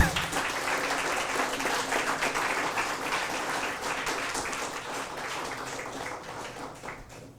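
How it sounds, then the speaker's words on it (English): A room full of people applauding at a book launch for handcrafted terracotta jewellery, dense even clapping that carries steadily for the whole stretch and eases only slightly at the end. "Can we have a round of applause, please,"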